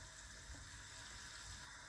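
Water pours out of a cooking pot of boiling pigtail into a sink, a steady, close rush that runs continuously and evenly throughout.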